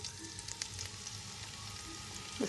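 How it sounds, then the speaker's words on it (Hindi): Sliced capsicum (bell pepper) fries in a pan with a steady, close sizzle that stays even throughout, with no voices. "अब हम शिमला मिर्च को फ्राई कर लेंगे"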